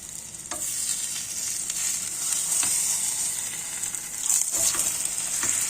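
Irgat börek frying in a pan after being flipped, a steady close sizzle with occasional soft clicks and shifts, no voices over it.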